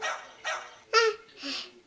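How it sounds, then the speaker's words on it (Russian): Four short recorded dog barks play from a tablet's animal-sounds game, evenly spaced, close and clear, with nothing else around them. "Собака."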